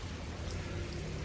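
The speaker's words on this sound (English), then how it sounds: "Sorry about the rain, not much I can do about that." Steady rain falling in Vietnam, a dense, even hiss of drops close by with no other sounds.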